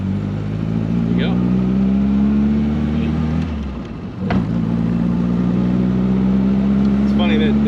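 A 1963 MG Midget's engine runs loudly from inside the car, a steady rumbling drone that dips briefly during a gear change before roaring on, with faint voices over it.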